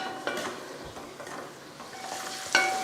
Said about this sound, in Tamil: ஒரு நிமிஷம் 2 நிமிஷத்துக்கு எண்ணெயில் இந்த மாதிரி வதக்கி எடுத்துக்கலாம்.